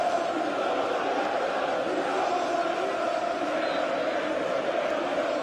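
A stadium crowd roars and applauds a Tottenham Hotspur goal against Millwall in an FA Cup match. The noise is a steady, dense wash that holds at an even level without breaks.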